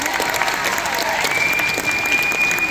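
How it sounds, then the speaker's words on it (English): Sustained applause from a crowd at an Indigenous fashion show at Riverside Indian School in Anadarko, Oklahoma, dense steady clapping filling the whole stretch at close range. "So, by a round of applause, are you guys ready to see some Indigenous fashion?"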